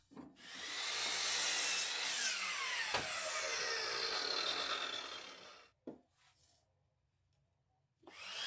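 Handsaw cutting through a 2x4 wood board, a continuous rasping back-and-forth stroke for about five seconds that ends with a sharp crack, followed by near silence and a final brief scrape; close and alone.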